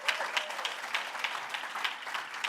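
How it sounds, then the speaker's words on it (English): Crowd at a school sports awards ceremony applauds an award winner, moderately loud, with a light scattering of claps and a few sharper hand strikes in an uneven rhythm. "Clap it up for Abby Lovell"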